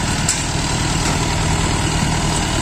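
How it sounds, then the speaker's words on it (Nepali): Three tractors and a bulldozer working to fill a pit with gravel, heard as a steady, continuous low engine rumble with idling machinery droning throughout and no clear breaks. "यो खाल्डोलाई जसमा चाहिँ तिनवटा ट्र्याक्टरले चाहिँ भर्ने काम भइरहेको छ भने, एउटा डोजरले"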